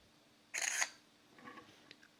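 Nokia C5-00 phone camera taking a photo with flash: one bright synthetic shutter click, then a fainter chime-like blip and a couple of small ticks, in a quiet room.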